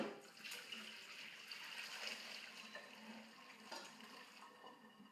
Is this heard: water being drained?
yes